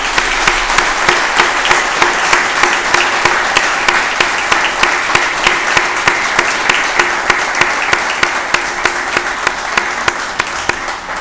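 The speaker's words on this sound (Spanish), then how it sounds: "Vamos a darle un fuerte aplauso." An audience of older people claps at the reopening of a day care centre, producing a loud, steady applause that lasts throughout with sharp individual claps standing out, no speech over it.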